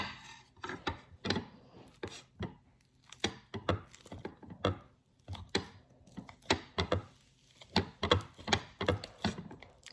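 Ripe banana mashed by hand for a homemade banana yogurt, a run of close, irregular soft thuds and squishy pounding strokes with brief pauses between bursts.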